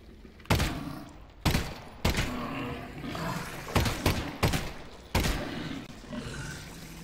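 Gunshots in the VR game Half-Life: Alyx, six loud separate blasts spaced about a second apart, each with a short booming tail, while low murmured talk runs faintly underneath.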